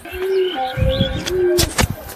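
A domestic desi pigeon with clipped wings coos in a few drawn-out, wavering calls, close by, with some rustling and brief chirps mixed in.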